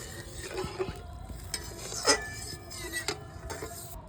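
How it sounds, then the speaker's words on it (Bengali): Water added to an egg curry in a hot pan gives a quiet sizzle, with light stirring scrapes and a few soft clinks of a utensil against the pan. "একটু পরিমাণ মতন জল দিয়ে দিলাম"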